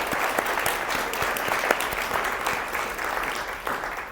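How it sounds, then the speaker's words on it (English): Warm, sustained applause from a Sacramento conference audience for organizer Tim Anaya at the California Ideas In Action event: many hands clapping steadily, close and full, with a few sharp individual claps standing out. "So please give Tim a warm Sacramento applause."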